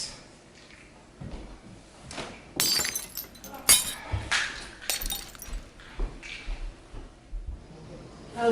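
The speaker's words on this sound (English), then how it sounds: "did you break a glass?" Glass breaking indoors, a sharp shattering crash followed by several scattered clinks and tinkling bits over a few seconds, with no talk.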